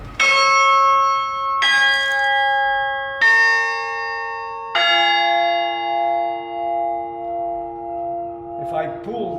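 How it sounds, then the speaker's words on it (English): Carillon bells struck by pulling wires ring out in four separate strikes at different pitches, each tone loud and clear and sustaining undamped so the notes overlap and slowly fade. "if I pull the wires like that, the bells sound"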